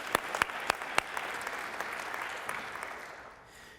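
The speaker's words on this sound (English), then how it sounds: "I'd still like to give him a round of applause as well." Audience at a city's State of the City address applauds a councilman, opening with a few sharp, separate claps before swelling into steady group applause that fades toward the end.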